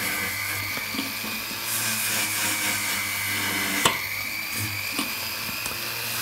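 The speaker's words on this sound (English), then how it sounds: "I'm just gonna get my pendant drill gently going over the outside surface." A pendant drill spinning a 21 mm white nylon brush whines at a steady high pitch while polishing the outside of a jewellery pendant, with small clicks and one sharp tap as the brush meets the metal, no talking.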